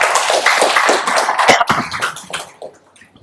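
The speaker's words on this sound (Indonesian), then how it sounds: "Terima kasih, tepuk tangan Ketua." A meeting audience applauds its chairman with loud, close, dense clapping that thins out and fades toward the end.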